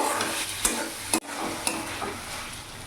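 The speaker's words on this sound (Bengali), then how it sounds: "এবার ভালো করে কিছুক্ষণ নাড়াচাড়া করে নেব।" Chopped green chillies stirred in a hot frying pan for a dhaba-style egg chicken tadka, a steady sizzle broken by several scraping strokes of a spatula and one sharp clank, close and continuous with no voices.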